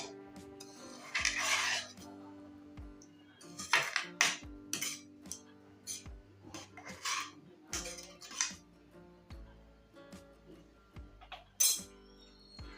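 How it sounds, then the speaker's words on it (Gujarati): A spoon stirs urad dal with water in a metal pot, giving repeated scraping clinks against the pot in an uneven rhythm, close and moderately loud with no talk. "પાણી નાખીને આપણે દાળને એકવાર સરસ રીતના મિક્સ કરી લઈશું"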